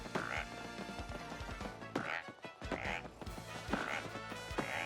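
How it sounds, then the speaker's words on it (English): Repeated frog croaks from the video game Paper Mario: The Thousand-Year Door, sounding every second or so in a steady rhythm over game music and light tapping effects. "We'll stay on the frog sound for now"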